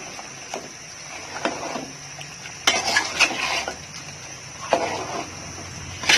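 A pot lid is lifted and beef is stirred with a metal utensil during home cooking of a Sylheti beef curry, giving sparse metallic clinks and scrapes separated by quiet pauses.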